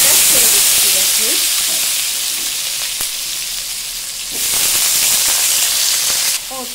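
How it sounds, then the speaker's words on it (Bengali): Diced papaya and chillies sizzle steadily in a hot pan for a vegetarian dish, a continuous close frying hiss with light stirring clatter, rising briefly louder midway and near the end, no talk. "আমি এবার পেঁপেটা ছেড়ে দিচ্ছি।"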